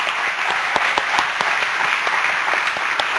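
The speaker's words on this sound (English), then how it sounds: "So let's just give them one more round of applause." A school-day crowd gives a round of applause, a loud, continuous wash of many clapping hands with a few sharper nearby claps standing out, no talking.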